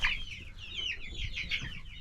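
A young rooster chick clucks and peeps repeatedly at close range under a heat lamp, with high chirpy calls in a steady run over low brooder rumble.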